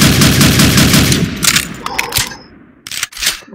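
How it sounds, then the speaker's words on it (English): An M1918 BAR machine gun firing in Garry's Mod, loud close bursts of rapid automatic shots broken by short pauses, with a mechanical clack between bursts and no talk. "So moving on to the next one is the M1918 bar."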